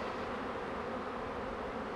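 Honeybees from a recovered swarm buzz in a steady, dense drone, close and continuous with no voices.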